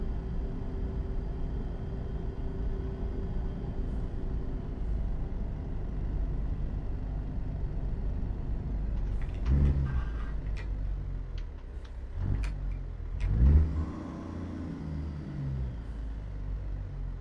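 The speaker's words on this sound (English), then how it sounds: "I like driving this truck." Steady low engine rumble of a truck driving in Euro Truck Simulator, a continuous drone with a couple of louder thumps and faint ticking near the end, no voices.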